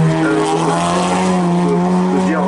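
Race car in the production series at a hill climb in Thereval-Agneaux, its engine roaring loud and close with shifting harmonic tones as it passes, while a commentator talks over it.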